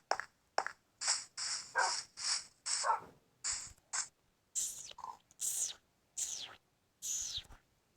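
A dog barks in a Spider-Man video game set in a destroyed city, giving about a dozen short, bright barks at an uneven pace, faint and somewhat distant, with no talking.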